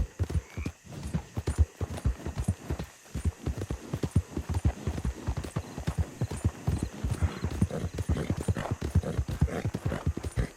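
Steady clip-clop of horse hooves at a walking pace in the western open-world game Red Dead Redemption 2, close and continuous, with an occasional faint whinny.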